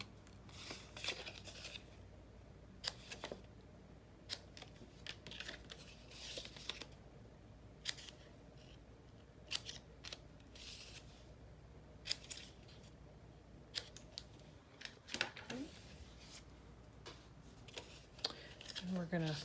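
Scissors snip paper corners in short, sharp cuts spread across a quiet craft session, with a person speaking softly between the cuts.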